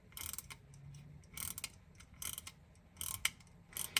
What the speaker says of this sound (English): And you can also hear the watch wind.